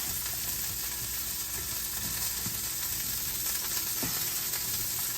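Vegetables seasoned with black pepper, white pepper and salt fry in a pan, giving a loud, constant sizzle up close with a few faint stirring knocks and no speech.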